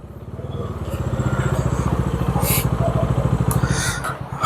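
A motorcycle engine idles close by with a steady, rapid thumping putter that holds for several seconds, slightly rising toward the end, with no talking over it.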